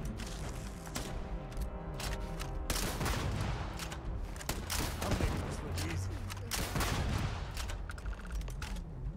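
Chaotic exchange of gunfire in Starfield, dense overlapping bursts and single cracks with mechanical clatter and occasional heavier booms, loud and close for several seconds, with a voice speaking under the shooting.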